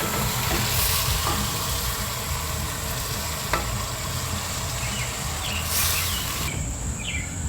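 Brandy stirred into a very hot pan on a Kamado Joe grill outdoors for steak Diane, giving a steady, loud sizzle and frying hiss throughout with faint birdsong in the background.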